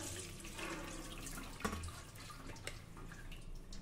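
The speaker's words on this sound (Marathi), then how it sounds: "आता इथे चाळणीवर आपण ही डाळ निथळत ठेवूया" Water trickles and splashes steadily as soaked lentils drain in a sieve over a sink, with a brief louder splash in the middle; no one speaks.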